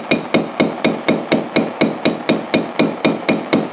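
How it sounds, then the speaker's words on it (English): A hammer taps a warm metal part held in a vise in a shop, about fifteen sharp, evenly spaced metallic strikes in quick steady rhythm, loud and close, with no talking. "I'm going to tap it and turn it at the same time."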